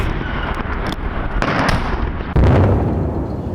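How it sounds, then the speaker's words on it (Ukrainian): Dull booming explosions of shelling in Bakhmut rumble through the air, one heavier blast landing loud and close after a few distant thuds. "В Бахмуті побахає просто не переставаючи"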